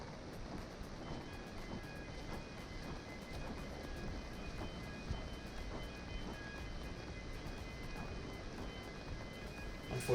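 Steady rain falling on a city street at night, a continuous dense patter with scattered drops and distant traffic rumble, even and unbroken throughout.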